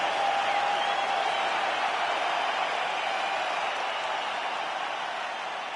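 A large arena crowd in the UFC 5 video game roars in a dense, continuous wash of cheering, even and sustained and slowly fading at the end, with no clear voices standing out.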